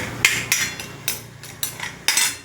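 Spoon scraping and clinking in a pan while masala fries in oil for a paneer rajma curry, several rhythmic strokes roughly every half second with a sizzling wash underneath.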